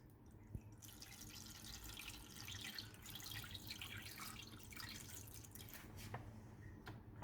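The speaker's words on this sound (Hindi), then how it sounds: "ये देखें इसमें मैं पानी ऐड कर रहा हूँ।" Water poured into a pan around a caramel egg pudding (Mexican flan) for a water bath, heard as a steady close trickle and splash with small drips, with no talking.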